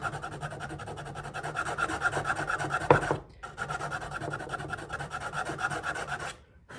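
A nail file rasps back and forth across a small 3D printed plastic part, a steady close scratchy rubbing that runs continuously, breaks off briefly midway, then resumes before stopping.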